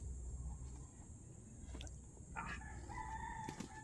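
A rooster crows faintly in the distance over a low background rumble, its drawn-out call rising and falling near the end.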